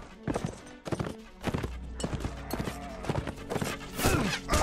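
Horse hooves clip-clopping at a run in the Mount & Blade Warband game, a rhythmic stream of hoofbeats mixed with battle noise and someone talking over it.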